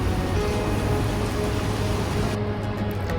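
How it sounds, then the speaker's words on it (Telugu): Water from Niagara Falls spraying down like heavy rain, a steady dense hiss that fills the whole clip with a low rumble beneath, easing slightly near the end. "పక్కనే వాటర్ ఫాల్స్ ఉండడం వల్ల ఆ వాటర్ అంతా ఇట్లా వర్షంలాగా చిమ్ముతుంది"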